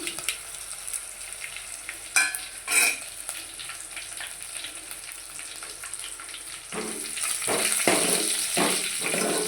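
Dried red chillies sizzle as they fry in hot oil while tempering tomato rasam, a steady close crackle, with stirring clatter near the start and a louder hiss toward the end.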